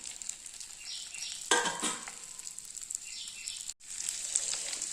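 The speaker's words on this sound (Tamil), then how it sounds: "இப்போ நம்ம வெண்டைக்காவை அப்படியே போட்டுக்கலாம்." Okra tipped into hot sesame oil, sizzling with a sudden burst of crackle as it hits the pan, then a steady frying hiss with a brief stir and a short pause near the end; no talking.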